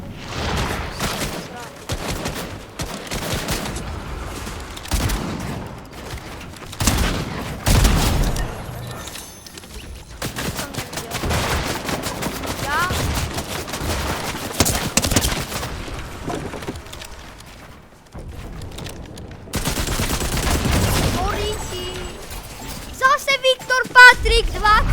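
Dense, loud gunfire from a shooter video game in reload mode, with rapid bursts, booms and volleys that run almost continuously for the whole stretch. Players talk over it now and then.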